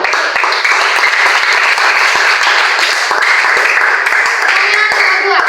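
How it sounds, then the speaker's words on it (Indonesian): A classroom full of students claps for a student group, dense steady applause throughout at close range with some cheering voices mixed in. "Oke, berikan aplaus untuk kelompok C."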